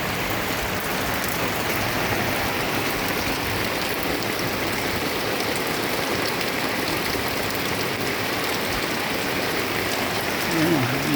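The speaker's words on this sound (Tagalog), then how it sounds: "Naglilinis sana tayo dyan, bigla namang umulan." Steady rain pours down over a yard on a wet afternoon, a dense, even hiss of drops on surfaces held at the same loudness throughout, with a faint voice surfacing briefly near the end.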